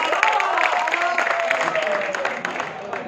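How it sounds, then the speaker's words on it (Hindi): A crowd of university students at a campus protest gathering claps in a dense, steady rattle of applause lasting several seconds, with voices mixed in underneath. "आप तालियां बजा दीजिए"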